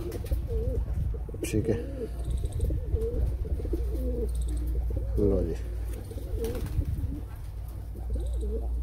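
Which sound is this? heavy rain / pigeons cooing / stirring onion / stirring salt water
pigeons cooing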